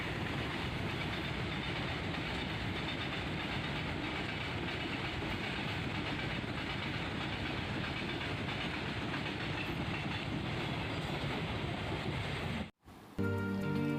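A train rumbles past a closed railway level crossing in a steady, loud, continuous roar that holds for over twelve seconds, then cuts off abruptly to quieter surroundings.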